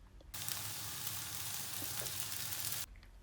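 Rice noodles hit a hot pan for shrimp pad thai and set off a loud, dense sizzle. It starts abruptly, holds steady for about two and a half seconds, then cuts off sharply, with no one talking.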